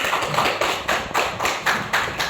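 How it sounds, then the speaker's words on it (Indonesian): Applause from an audience after a talk at a meeting, heard as a steady dense patter of clapping with faint rhythmic swells, fairly close and continuous with no voices. "Ya, beri aplaus."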